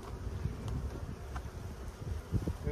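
Honey bees buzz around an open hive frame in a thick, continuous drone, many insects close together, with occasional louder passes near the listener.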